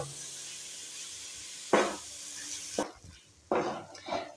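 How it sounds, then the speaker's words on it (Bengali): Soaked rice and dal are mixed with spices in a pot. A soft hiss gives way to a few sharp, close scraping stirs spaced a second or so apart, with no talking. "দিয়ে দুটোকে খুব ভালো করে একসঙ্গে মশলার সাথে মিশিয়ে নেব।"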